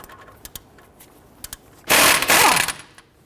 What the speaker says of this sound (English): Now we got our lower bolt out with our impact gun